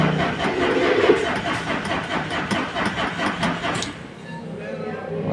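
A Ford Ranger with a fuel leak fault and low rail pressure cranks without starting, a steady rhythmic starter churn under background talk, then cuts off near the end leaving a quieter hum.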